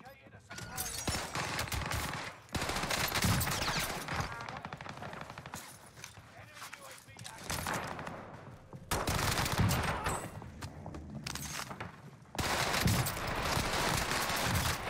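Tommy gun firing in a Warzone match on Rebirth Island, loud sustained bursts of rapid automatic fire in several long runs separated by short pauses, with some voices in between.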